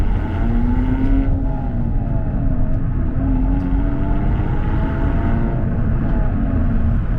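A Hyundai Elantra N pulls off and drives in eco mode, its engine giving a steady, close cabin drone with gently rising and falling tones as it gathers speed, with no one talking.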